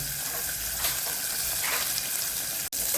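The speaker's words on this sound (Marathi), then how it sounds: "छान भाजून घेऊ आता" Wet pigeon pea pods roasting in a hot pan in a home kitchen, a steady broad sizzle and hiss with faint crackles, continuous and close, cut briefly by a tiny dropout near the end.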